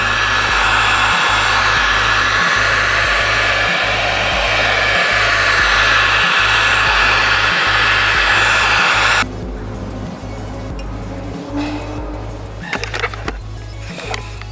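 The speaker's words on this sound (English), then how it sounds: "You use the heat gun on this side and I'll show you guys how you get the effect." Heat gun blowing hot air on a DIY plastic front lip, a loud steady roaring hiss with a pulsing hum that cuts to a lower, quieter blow partway through.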